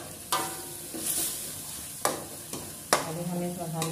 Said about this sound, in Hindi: अभी हम इस मसाले को तब तक भूनेंगे जब तक इसमें ऑयल रिलीज ना हो जाए